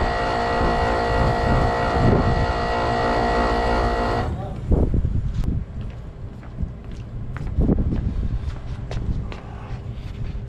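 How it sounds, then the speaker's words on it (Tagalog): An LG split-type air conditioner with a newly replaced compressor runs loudly with a steady mechanical hum, then drops off to quieter clunks and knocks. A voice talks over it. "So ayun, gumana yung ating compressor dito."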